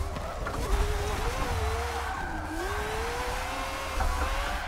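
A race car drifts in a racing video game played on a Logitech G920 wheel, the engine holding a steady wavering drone with a sustained tire squeal layered over it, fairly loud and continuous.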